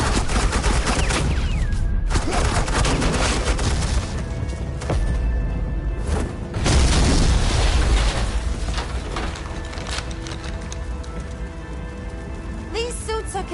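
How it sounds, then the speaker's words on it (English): Heavy suppressing gunfire erupts in sustained bursts, loud and close, with booming volleys and rattling shots that fade briefly and then surge again, with no speech over it. "Suppressing fire."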